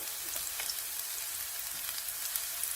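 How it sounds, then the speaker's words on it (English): Onion frying in a pan, a steady close sizzle with faint crackles and occasional stirring, continuous with no voices. "Fry it in a few minutes until it's fragrant."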